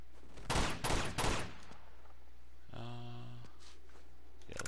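Gunfire in Uncharted 2 comes as three quick loud bursts of shots near the start, followed by a brief tonal effect and a faint shot near the end, over a low steady game background.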